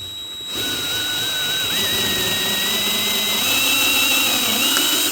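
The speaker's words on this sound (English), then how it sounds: "Now I have a 3/4 inch hole saw without the bit in there." A 3/4 inch hole saw driven by a power drill cuts through the plastic side panel of a Denago Rover XL, giving a loud, steady whirring grind that holds for several seconds with a slowly rising whine.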